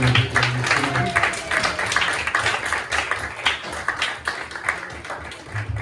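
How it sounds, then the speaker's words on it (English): An evening audience gives steady, sustained applause with scattered individual claps throughout, fairly close and continuous. "Great applause, everyone."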